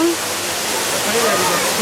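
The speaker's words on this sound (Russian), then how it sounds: "вот такой водопад" The Dudhsagar waterfall in Goa roars as a close, loud, unbroken wash of falling water, and a voice speaks briefly over the steady rush.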